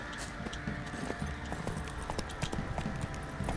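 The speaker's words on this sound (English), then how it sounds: "Ah, el caballo, me vuelve." A horse trots in The Witcher 3 video game with fast, even clip-clop hoofbeats. They stay steady and fairly loud over a constant game ambience, and no one speaks.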